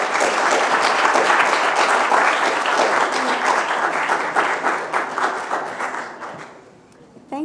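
University lecture audience applauding to welcome a visiting lecturer, a dense, loud wash of clapping from many hands that thins into scattered individual claps and fades near the end.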